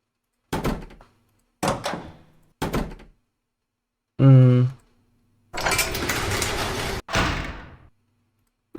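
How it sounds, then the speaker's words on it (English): Several door closing effects from the Roblox Studio audio library play back one after another, each a short thud or slam with brief gaps between, followed by a couple of longer, noisier door sounds near the end. "So let me get a door close sound."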